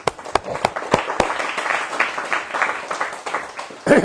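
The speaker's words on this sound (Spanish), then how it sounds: "Así que démosle un aplauso al Señor, hermanos." A church congregation applauds together, a dense spread of hand claps with a few sharp individual claps standing out, steady and fairly close, with some voices mixed in.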